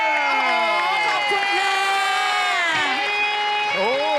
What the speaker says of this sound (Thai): อยากดูลีลาน้องพร ขอเสียงปรบมือหน่อยแล้ว